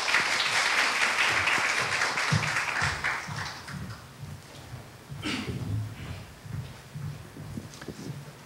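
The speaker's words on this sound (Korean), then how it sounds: "박수로 맞으시기 바랍니다." An audience at a forum debate on public certificates claps to welcome the opening speaker, steady crowd applause over about eight seconds with a slight dip midway.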